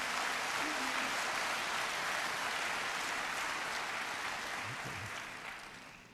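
Applause from a church congregation during an evening revival sermon, a steady dense wash of clapping that holds throughout and thins slightly toward the end, with no voice over it.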